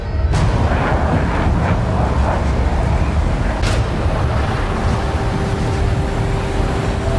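Heavy, continuous video game gunfire with booming blasts, a dense roar of battle noise that fills the whole stretch without letup.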